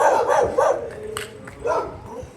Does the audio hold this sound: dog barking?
yes